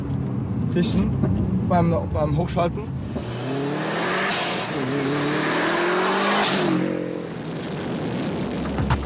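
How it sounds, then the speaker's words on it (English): A car engine revs hard and a sharp turbo hiss whooshes out between gear changes, loud and close, with a voice talking over it. "you have the cool sound, the cool hissing when changing up"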